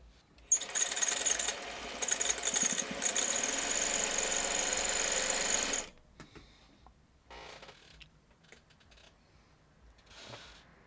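A sewing machine stitches together quilt block pieces for an I HEART U block, running in a loud steady whir for several seconds, then stops, followed by a few quieter scattered handling sounds.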